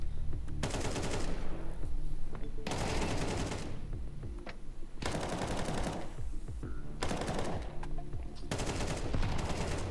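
Rapid automatic gunfire bursts from a competitive video game match at a LAN playoff, several long volleys separated by short gaps, loud and close with faint background noise.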